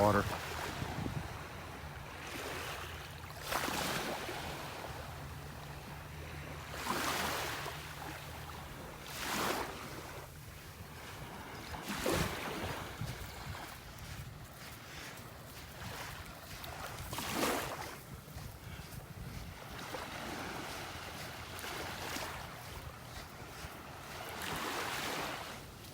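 Ocean waves wash ashore at a beach in North Naples, Florida, with repeated broad surges of surf every few seconds over a steady wash and light wind, fairly close and moderately loud.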